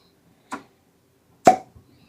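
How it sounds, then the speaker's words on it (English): Cork pulled from a bottle of Penelope Barrel Strength bourbon: two distinct hollow pops about a second apart, the second louder and close, with a brief rattle after, in a quiet room. "Another good cork pop."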